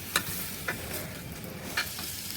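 Fish and flat beans sizzle steadily in a hot pan while a spoon scrapes and stirs them, giving a couple of brief metallic clinks over the constant close frying hiss.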